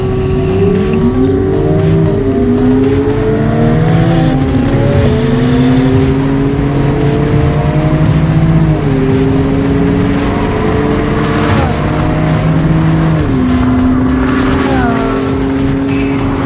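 A drag race involving an AMG GLC 43, a Porsche Macan S, a Jaguar F-Pace P400 and a Ferrari 458, with loud engines accelerating hard, repeated gear shifts audible as rising and dropping pitch over a constant, close roar.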